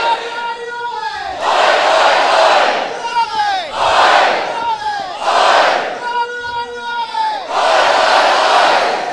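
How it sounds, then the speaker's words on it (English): A packed crowd of 700-plus at a SLAM! professional wrestling event chants and cheers in loud, rhythmic waves of voices, surging and dipping several times in a reverberant hall. "As I'm sure you can hear them at home cheering on Robbie Eagles"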